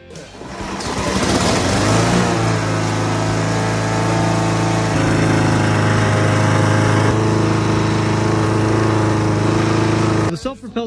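Honda Harmony 2 Quadricut self-propelled lawn mower, run about 20 years without an oil change, with its small engine starting up and then droning steadily and loudly at close range before cutting off abruptly.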